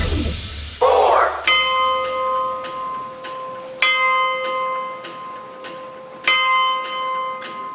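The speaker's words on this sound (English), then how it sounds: "church bells rang 72 times across London as a mark of respect for those who died that night" Church bells ringing in London in tribute, three clear tolls spaced a few seconds apart, each with a long ringing decay, following a brief rustle at the start.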